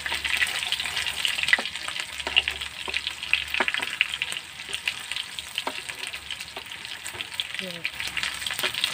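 Adobong sitaw with chicken neck is stirred in a sizzling pan, with steady close frying crackle and a few soft scrapes, with no speech.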